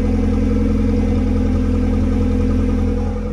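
A 1985 Mazda 929 hatchback sedan's engine running steadily, a loud, close, continuous idle hum with a low rhythmic throb and slight clatter, no voices over it.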